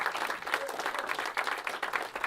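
An audience applauds after a musical performance, with dense, steady clapping that holds at an even level for the whole couple of seconds.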